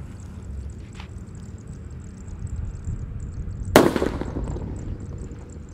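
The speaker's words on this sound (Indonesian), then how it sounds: "Mercon petir berhasil menyala guys." A single loud firecracker blast erupts from a mercon petir lit inside a hole in the ground, a sharp boom with a brief crackling tail, heard fairly near over steady outdoor background noise.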